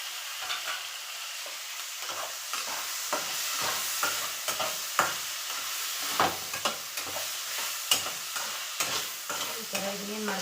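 Tomato, onion and chopped coriander stirred and frying in a pan for a brinjal curry, with a steady close sizzle broken by repeated scraping and stirring clicks of a spoon against the pan.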